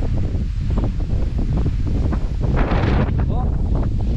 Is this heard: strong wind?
yes